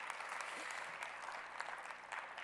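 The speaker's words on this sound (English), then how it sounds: "please give them a round of applause" Applause from an audience at a conference panel discussion, a faint, distant, steady patter of clapping throughout with no clear voices.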